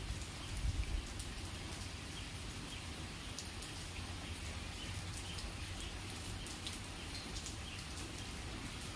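Steady rain falls over a village in a broad, even hiss with a faint patter of drops throughout, and a few birds call softly in the background.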